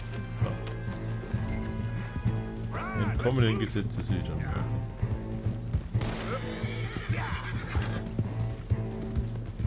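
A horse in the Western video game Red Dead Redemption whinnies twice with long, wavering neighs amid clip-clopping hooves and game music, while someone talks over it.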